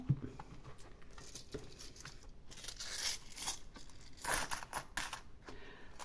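Coins being gathered and put into a small envelope while emptying a savings challenge: a run of metallic clinks and jingles at moderate, close level, with brighter bursts of rattling toward the middle and end, and no talk.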